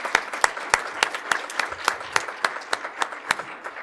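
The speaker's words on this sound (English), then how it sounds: "let's again give them a round of applause and thank them for their time here with us" Applause at a school board of education meeting, a small group clapping with sharp, separate claps in a steady patter that carries through the whole stretch, moderately close and not very loud.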